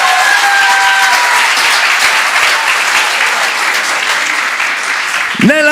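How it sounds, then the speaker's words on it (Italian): Loud, dense applause fills a church during an Italian Sunday service, with many hands clapping hard without a break; a voice cuts in briefly right at the end. "Clap harder"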